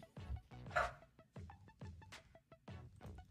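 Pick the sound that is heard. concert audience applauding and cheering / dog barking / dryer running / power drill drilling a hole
dog barking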